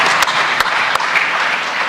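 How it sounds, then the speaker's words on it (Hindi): Sustained applause from a large audience at a national conclave, dense and steady for the whole stretch with a few sharper individual claps standing out near the front. "तालियों से इस कॉम्प्लीमेंट किया जाए"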